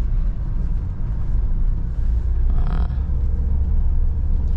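A car pulls away in second gear as the driver adds throttle behind a bus, the engine a steady low rumble that rises slightly in strain, close and continuous with no talk.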